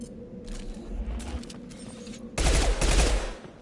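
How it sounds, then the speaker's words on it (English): Burst-weapon gunfire in Mass Effect 2: several quick, loud volleys of rapid shots, with a heavier, denser burst near the end. "That's a burst weapon."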